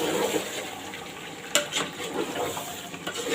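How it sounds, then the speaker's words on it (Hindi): Beef korma with yogurt frying in a pot, a soft, busy sizzle and bubbling with occasional stirring scrapes, close and moderately quiet. "दही के पानी सूखने तक हम इसको भूनेंगे।"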